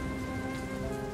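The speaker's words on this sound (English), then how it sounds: "The rhythm of droplets on the pavement echoes through the city's desolate alleyways" Rain falling on city pavement in the video game World of Goo 2, a dense, even hiss of droplets with a faint underlying hum, steady and unbroken for a brief moment.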